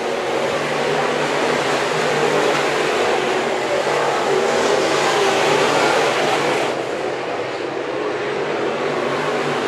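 Sport modified race cars racing at Antioch Speedway, several engines merging into one loud, continuous roar with no break and no talk.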